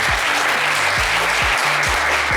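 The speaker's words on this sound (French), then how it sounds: "Eh bien, ça s'applaudit très fort." A television studio audience bursts into loud, dense applause that holds steady throughout. Low thuds and shifting background noise sit beneath the clapping.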